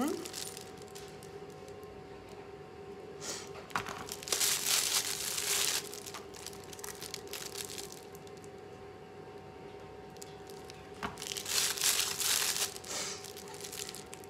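Plastic pastry bag crinkled and handled while baking choux pastries, with bursts of rustling crackle separated by quieter stretches, close by and under occasional talk.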